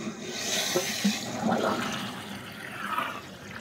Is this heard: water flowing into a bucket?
yes